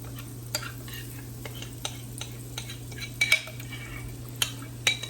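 Cornbread batter poured into a hot skillet gives a soft, steady sizzle under a low hum, with scattered light clinks and ticks of a utensil against the pan and no voices.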